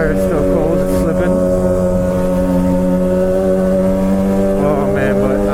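A Suzuki GSXR 600 sport motorcycle drones loudly and steadily while riding on cold tires, holding a constant engine pitch with rushing wind noise throughout.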